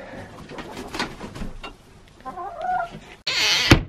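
Chickens in a backyard coop give a run of soft clucks and short calls, fairly close, ending in a louder burst of squawking.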